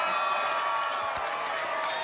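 Rugby crowd at the Meads Cup final in Westport roaring in a steady, dense wash of cheering and applause after a try, sustained without a break.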